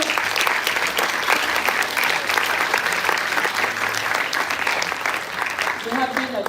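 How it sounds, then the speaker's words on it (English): An audience at an Islamic finance forum gives sustained, dense applause that carries steadily for several seconds before a voice begins speaking near the end. "So give a round of applause."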